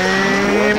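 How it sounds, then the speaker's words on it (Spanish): A motorcycle engine revs in a short, loud, steady whine that holds and climbs slightly, heard alone without talk. "Yo creo que es cuando la moto hace..."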